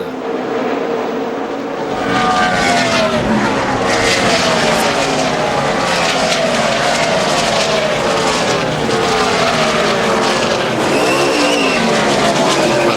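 NASCAR Sprint Cup race cars racing at Michigan in the LifeLock 400: a loud, continuous roar of engines whose pitch rises and falls as cars sweep past, with no voices over it.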